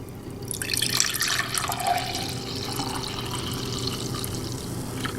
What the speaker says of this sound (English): I'm going to pour some into the glass